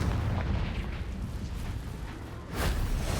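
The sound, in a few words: Confringo explosion spell cast in the video game Hogwarts Legacy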